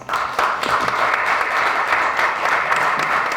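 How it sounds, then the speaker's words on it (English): An audience at a candidate forum in Key Biscayne breaks into applause, a close, loud, continuous wash of clapping with no talk over it. "Could we give her a round of applause?"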